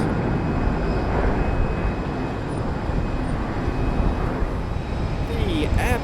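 A British Airways Airbus A320 departs London Heathrow for Lisbon with a loud, sustained jet roar that stays fairly level, and speech comes in faintly near the end.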